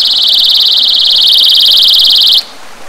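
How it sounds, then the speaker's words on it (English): A small personal alarm shrieks once its two pieces are pulled apart, a loud, steady, piercing electronic tone held close for over two seconds before cutting off abruptly. "This is just a little personal alarm that you buy off Amazon or wherever."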